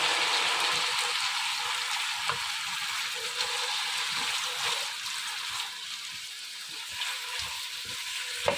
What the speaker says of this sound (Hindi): इसे थोड़ा सा हम फ्राई कर लेते हैं।